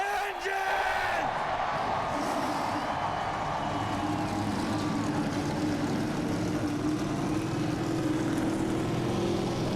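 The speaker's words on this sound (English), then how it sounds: "Gentlemen, start your engine!" NASCAR stock car engines fire up at Richmond, Virginia, for the 2008 Crown Royal 400, swelling into a dense, continuous roar of many engines that holds steady. A voice calls out over the start.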